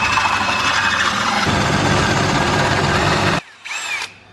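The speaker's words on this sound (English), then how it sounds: "That's all the holes drilled." A power drill whirs steadily and loudly for several seconds drilling holes for a VW T4 rear anti-roll bar kit, then cuts out, followed by a short, quieter burst of drilling before stopping.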